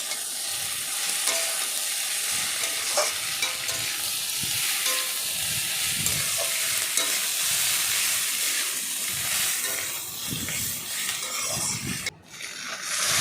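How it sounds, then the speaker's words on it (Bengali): Mixed fish curry frying in a pan with steady sizzling and hissing steam, broken by repeated scraping stirs of a spatula, close and continuous without speech. "দিয়ে ভালো করে নাড়াচাড়া করলাম"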